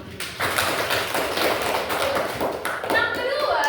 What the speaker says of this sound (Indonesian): kita kasih tepuk tangan untuk teman-teman